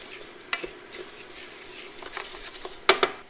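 Rice toasting in a pan for golden risotto, a wooden spoon or utensil scraping and tapping against the pan in scattered strokes, with a faint sizzle beneath and a louder clatter near the end.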